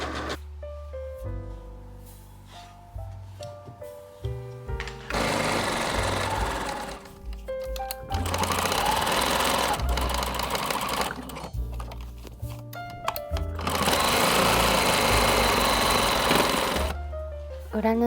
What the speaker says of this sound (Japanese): 裏布と表布を中表に合わせて口をぐるりと縫い合わせよう。